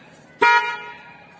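One short, loud blast of a newly fitted dual-tone horn on a one-year-old TVS Jupiter scooter rings out, its bright tone fading quickly against a quiet background.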